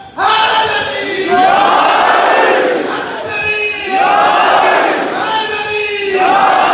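Call-and-response slogan chanting at a Muharram majlis in an imambargah on Wahdat Road, Lahore: a leading voice cries out and a big crowd roars back, repeated in a rhythmic cycle about three times, loud and close.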